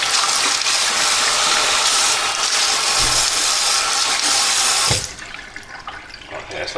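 Cold water runs steadily from a tap over an item being rinsed clean, a continuous loud splashing rush that cuts off abruptly near the end, leaving faint room noise.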